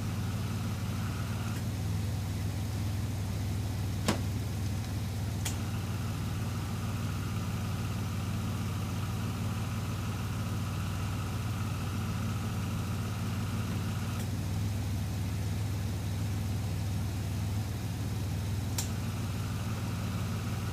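Car engine idling steadily at close range with a low, even hum, the A/C compressor cycling on with faint clicks partway through while refrigerant cans are connected to the auto air conditioning system.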